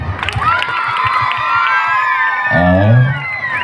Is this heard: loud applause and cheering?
yes